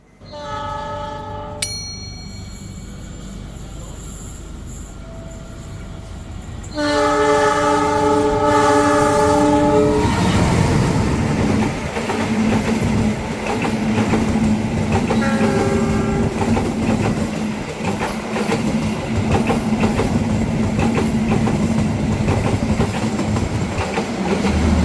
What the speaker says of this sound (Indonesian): kita berhenti di Maswati untuk silang dengan kereta api Parahyangan dari Bandung ke Gambir